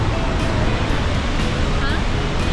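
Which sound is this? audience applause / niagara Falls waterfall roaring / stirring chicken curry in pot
niagara Falls waterfall roaring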